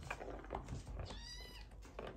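A kitten gives a thin, high squeak, one rising cry in the middle of soft indoor rustling, close by.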